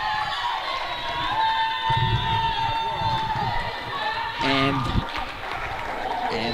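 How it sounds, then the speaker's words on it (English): Crowd noise at a high school girls basketball game rises after a score, a steady roar of cheering voices and shouts with a brief burst of whoops near the end, loud and continuous throughout. "crowd is going pretty wild over the score right now"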